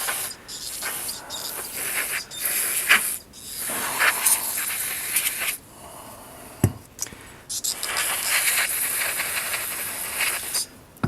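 Aerosol brake cleaner sprayed into the carburetor of a Husqvarna lawn mower, a series of close, sharp hissing bursts of varying length separated by short quiet gaps, with no speech.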